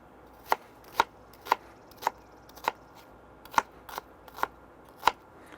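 A knife dices onions on a cutting board in a steady series of about nine sharp, close chops, evenly spaced about half a second apart against a quiet background.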